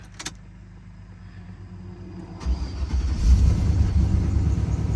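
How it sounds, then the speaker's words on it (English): A truck engine cranking and catching after a no-start fix with new terminals, a short click, then a low rumbling idle that swells and holds steady, close and fairly loud. "I went from a no start to starting just fine."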